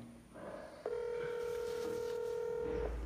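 A phone places a call through a free calling app: a steady electronic tone starts abruptly and holds for about two seconds over faint room noise, then cuts off.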